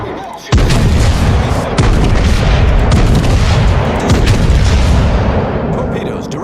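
Heavy enemy battleship main guns booming in World of Warships, a deep sustained roar of cannon fire after a sudden onset, loud and continuous with rumbling low end throughout.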